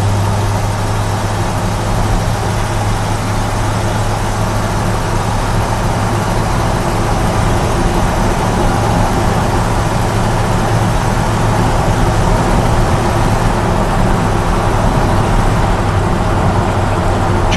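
A 1954 Ford F-100 pickup truck on the move, its engine and road noise forming a loud, constant low rumble through the whole stretch, with no distinct break where a firm transmission shift stands out and no voices.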